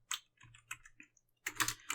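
Computer keyboard typing while coding, with irregular bursts of key clicks separated by short pauses and a denser flurry of keystrokes near the end, close and clear with no talking.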